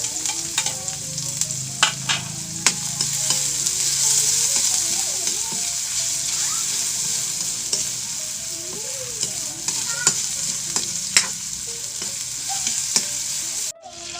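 Corned beef fries steadily in hot oil, a bright continuous sizzle close to the pan, broken by repeated scraping clicks of a utensil stirring it and a faint voice in the background.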